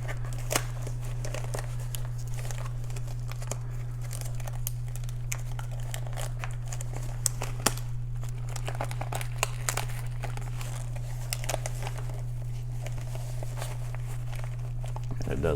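Trauma kit supplies being crammed into a small zippered travel pouch, with steady soft crinkling and rustling of packaging throughout over a constant low hum, broken by a few sharper handling clicks.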